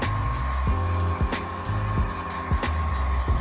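A heat gun or hair dryer blows hot air onto carbon fiber steering wheel trim on a C8 Corvette, a loud steady blowing hum with a rhythmic pulsing throughout and no talking.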